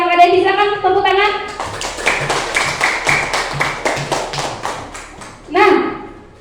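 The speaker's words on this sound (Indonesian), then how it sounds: "Silakan tepuk tangan." Children in a classroom clap their hands together in a quick rhythmic burst of sharp, close slaps, with a teacher's voice speaking before and after.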